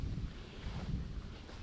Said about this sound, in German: ist auch noch schön Wind dabei